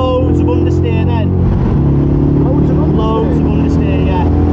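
Audi B7 RS4 Avant track car at Oulton Park, its engine loud and close with harmonic revving that rises and falls through gear changes, under the voices of people talking inside the car.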